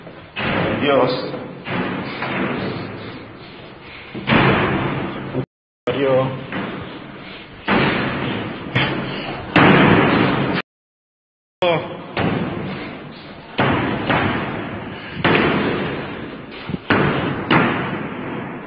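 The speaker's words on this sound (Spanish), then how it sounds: "se puede escuchar cómo se abre y se cierra una puerta muy violentamente" A door is flung open and slammed shut violently several times inside a building reached by stairs, giving heavy repeated thuds and bangs mixed with a man's agitated speech and exclamations.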